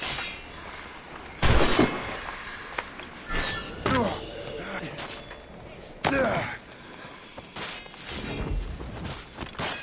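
Gunshots in the video game Assassin's Creed Rogue, played on the Switch, land as a handful of sharp, loud cracks spaced several seconds apart, with voices and quieter game sounds in between.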